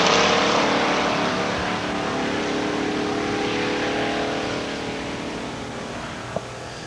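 A 1985 Mustang launches and runs down a drag strip, a loud, steady engine roar that holds strong and then slowly fades as the car pulls away.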